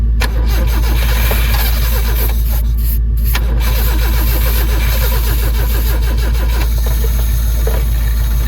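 A Saab 900 or Subaru Brat engine cranks and catches, turning over with a loud mechanical churn that settles into a steady, rough running rumble.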